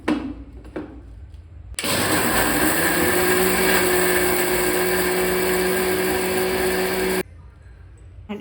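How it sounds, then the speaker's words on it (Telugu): A kitchen mixer grinder whirs loudly and steadily for about five seconds as it grinds cooled fried ingredients for gongura chutney, starting and stopping abruptly. "అండ్ ఇప్పుడు వీటిని కూడా గ్రైండర్లోకి వేసుకోవాలి."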